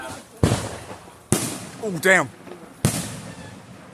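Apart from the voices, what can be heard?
small fireworks show exploding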